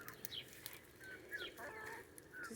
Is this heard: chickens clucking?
yes